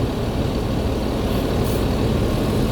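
An NPM V55 bus pulls away from a terminal in the morning, its engine rumbling loud and steady and close throughout, with a faint hiss near the end.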